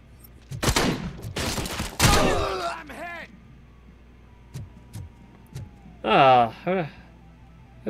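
Shotgun blasts from the game RoboCop: Rogue City ring out in loud, close bursts early on, followed by quieter clanks and ricochet-like tones while distant game voices and grunts come and go.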